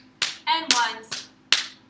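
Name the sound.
hands clapping in rhythm exercise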